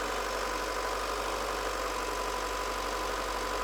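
A Renault Clio 1.2 16v engine runs at a raised, steady speed, producing a loud, continuous drone with no break and no voices.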